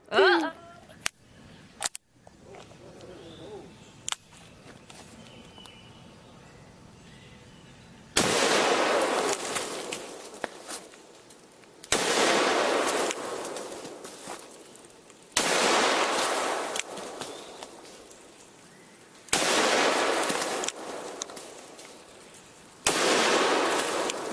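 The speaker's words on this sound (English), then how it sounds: "Lock and load. It's a watermelon firing squad." Guns firing at watermelons in an outdoor watermelon firing squad: a few sharp cracks early on, then a series of loud, sustained roaring bursts of fire with brief gaps between them, and no talk.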